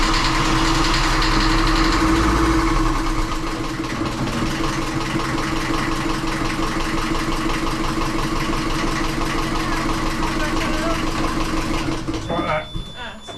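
A small inboard diesel engine on a sailboat runs steadily during winterization, a loud continuous idling drone with knocking pulses, and people speak briefly over it.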